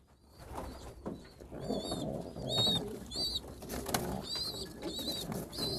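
Pigeons coo repeatedly in a loft, with soft rolling calls rising and falling at close range. Faint rustling and movement sounds come through between the coos.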